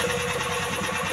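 Small engine of a rice transplanter running steadily at close range, a continuous even drone with a faint rhythmic pulse, no talk.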